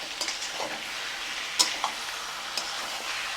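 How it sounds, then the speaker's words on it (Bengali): Chicken and onion sautéing in a pan with panch phoron spices, a faint steady sizzle broken by a few light spatula scrapes and clicks, no voices. "চিকেনটাও ভালোভাবে কষা হয়ে যাবে।"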